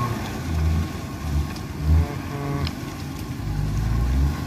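A city minibus engine revs and labours in steady low rumbling surges while it crawls over a badly damaged, broken road, with a louder push near the end.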